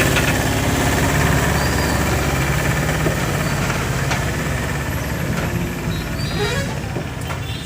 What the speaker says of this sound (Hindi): देखिए यहाँ इंजन है, एक इंजन और गाड़ी है